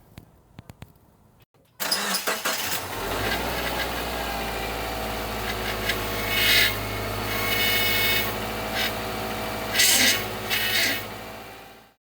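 A 2011 Subaru Impreza Outback Sport engine starts after some light clicks, then idles steadily with a continuous whine from its power steering pump, which has an O-ring leak.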